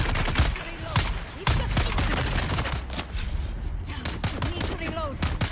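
Rapid bursts of gunfire from a firefight in the video game Dune Awakening, sharp repeated shots in clusters across the whole stretch, close and loud, mixed with bits of talk.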